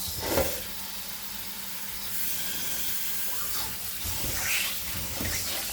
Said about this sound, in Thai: เปิดน้ำล้างได้เลย ล้างจนน้ำใสๆเลยนะคะ